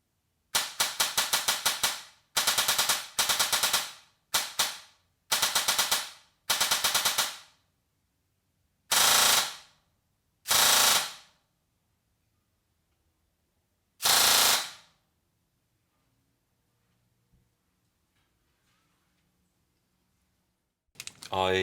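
Airsoft gun fitted with a 25k Tiny high-speed motor, firing around 27 rounds per second in loud, rapid buzzing bursts of one to two seconds, several in quick succession and then spaced apart, with a brief burst at the end.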